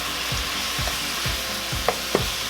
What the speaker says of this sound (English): And we're just going to let this simmer.